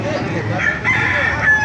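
A rooster crows loudly and close by, a long drawn-out call with background noise at a chicken market in Baliuag, Bulacan.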